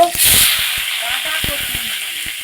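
Chopped garlic and green chili frying in a pan, a bright sizzle that swells early then settles, broken by scattered clicks and light stirring, with a voice speaking over it.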